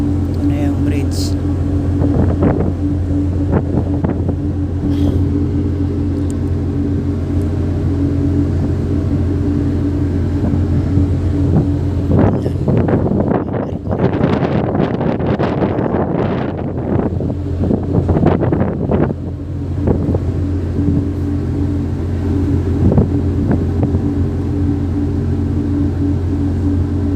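A passenger ship under way on calm open water, with a steady low engine hum and heavy wind buffeting the microphone, gusts swelling loudly midway, as someone talks intermittently over the rumble.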